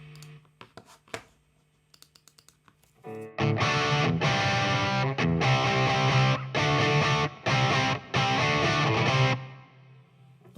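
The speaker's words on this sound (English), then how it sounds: "Lots of reverb in the background." Distorted electric guitar played through the Overloud TH-U amp simulator with heavy reverb, first a few muted plucks and clicks, then loud sustained chords in rhythmic bursts with a washy tail.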